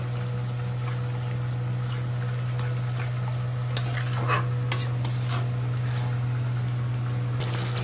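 Mustard, poppy seed and chilli masala for a Bengali pomfret fish curry is stirred in a pan, giving soft scraping and clinking of a spoon over a low steady hum and a gentle sizzle.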